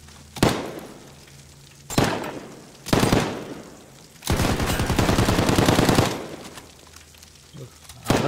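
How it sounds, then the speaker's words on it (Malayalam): Gunfire from multiplayer Call of Duty Modern Warfare: three loud single shots spaced about a second apart, then a sustained rapid automatic burst for nearly two seconds, followed by another shot, loud and close. "ഡേയ് ഞാൻ വെടി വെച്ചിട്ട് അവൻ ചത്തില്ലടാ"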